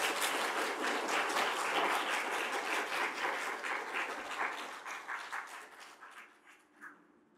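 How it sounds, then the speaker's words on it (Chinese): Audience applause after a talk at a Buddhist lecture, a dense burst of many hands clapping that thins out and fades toward the end, with a few last scattered claps. "掌声"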